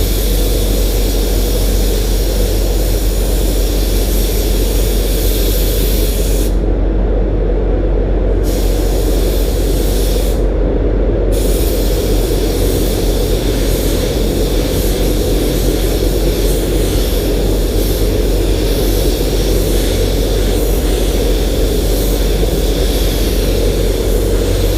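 DeVilbiss FLG5 1.4 spray gun laying down clear coat on automotive paint, a loud continuous hissing rush lasting throughout, with two brief dips in the airflow partway through.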